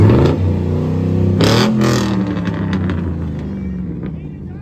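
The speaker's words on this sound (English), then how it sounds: "There's a Pontiac." A Pontiac rolls past close by in a firefighters parade, its engine rumbling and briefly revving before fading as it moves away, with wind buffeting and people talking nearby.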